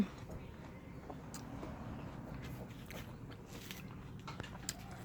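Close chewing and biting while eating homemade pizza, soft irregular crunches and mouth sounds running steadily at low level, with faint background noise and no clear talk.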